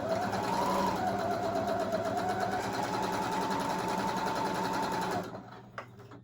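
A beginner sewing machine runs continuously while stitching pleather or leather, a close, steady motor whir with rapid needle chatter that stops near the end, followed by a few faint clicks.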